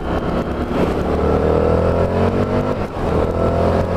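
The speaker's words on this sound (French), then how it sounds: "C'est un bicylindre moteur en V." An Indian FTR 1200 motorcycle's V-twin engine revs loudly up close, its steady throbbing roar rising and holding across the whole stretch without a break.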